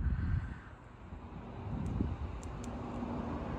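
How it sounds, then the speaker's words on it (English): Busy highway traffic roars steadily in the background beside an outdoor car-detailing spot, a faint, continuous low rumble with some wind buffeting the microphone. "right next to a busy highway."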